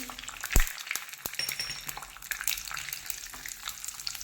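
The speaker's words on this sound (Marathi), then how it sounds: "मनुके ही छान अशा आपल्याला फुलेपर्यंत भाजून घ्यायचे आहेत" Raisins and cashews fry in ghee with a soft, continuous crackle, broken by sharp clicks and scrapes as the pan is stirred.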